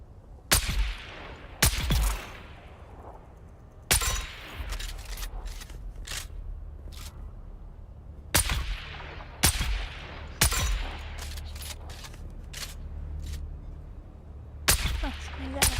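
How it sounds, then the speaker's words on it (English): Sniper rifle shots in the game Dune, sharp loud cracks spaced irregularly several seconds apart, each followed by a short decaying tail, with quieter clicks and game sounds between them. "Got me a sniper rifle."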